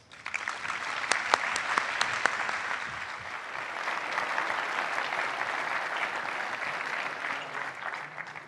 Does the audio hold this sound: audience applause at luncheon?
yes